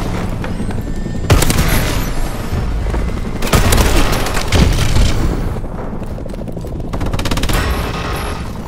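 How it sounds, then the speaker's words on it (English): Missile strikes in a shooter video game detonate as heavy booms and rumbling blasts, several loud explosions spread across the clip over continuous gunfire-like crackle, with no talking. "Take cover! Enemy missile strikes!"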